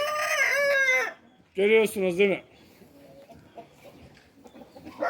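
Young roosters give loud, drawn-out crowing calls in two bursts, with someone speaking briefly between and after them.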